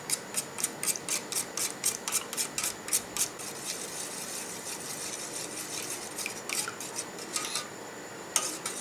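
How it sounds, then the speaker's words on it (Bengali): Dough ingredients with white oil and two spoons of milk powder being mixed, giving a quick run of regular scraping, rattling strokes for several seconds that then turn slower and more scattered. "এখন আমি সব কিছু ভালোভাবে মিশিয়ে নেব।"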